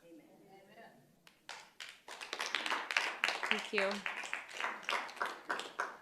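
An audience at a school board governing meeting bursts into applause, the clapping building quickly and then holding steady and fairly loud, with one voice speaking briefly over it.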